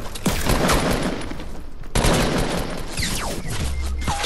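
Rapid gunfire from a shooter video game, dense bursts and volleys filling the whole stretch, loud and close with a brief break midway before firing resumes.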